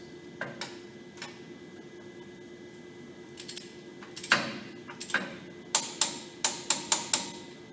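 A torque wrench clicks as it tightens a caliper bracket bolt on a Ford Ranger, with scattered faint clicks first and then a close, sharp run of about six evenly spaced clicks near the end.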